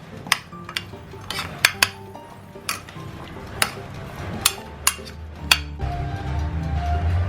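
Metal utensils clink and scrape against a bowl as vegetables are mixed for whole roasted tandoori chicken, a series of sharp close knocks at irregular intervals, followed by a low rumbling rustle near the end.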